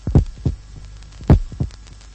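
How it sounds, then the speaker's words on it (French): Heavy, deep heartbeats thud in a slow, steady double rhythm, loud and close, with a low hum underneath. "Il y a ces lourds battements de cœur."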